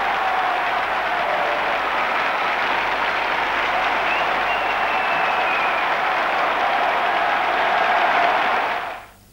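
A stadium crowd of about 50,000 roars and applauds a new show-jumping champion after the final jump, forming a dense, steady wall of cheering and clapping that holds at full strength before cutting off abruptly near the end.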